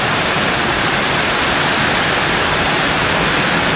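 A loud, steady rush of heavy rain pouring without pause, dense and unbroken from start to finish.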